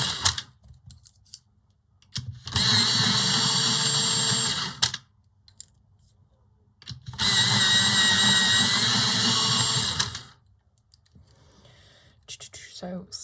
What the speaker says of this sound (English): Okay, so I'm going to give these a quick sharpen